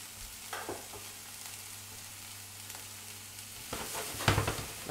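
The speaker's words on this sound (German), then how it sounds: "Ihr seht, das brutzelt jetzt schön hier." Jackfruit empanada filling sizzles and fries in a pan, a steady soft crackle with occasional louder stirring scrapes near the end, no voices.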